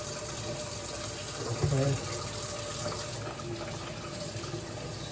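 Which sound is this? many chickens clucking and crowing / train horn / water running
water running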